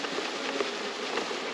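Bees buzzing steadily around a beekeeper as he handles a large cluster of them, a continuous close droning hum with no pauses.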